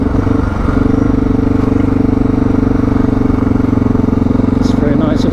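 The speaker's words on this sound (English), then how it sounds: "Another vehicle coming." Steady engine drone of a vehicle on a mountain forest dirt road, loud and continuous throughout, a motorcycle engine running close with rumbling low tones and faint clatter over rough ground.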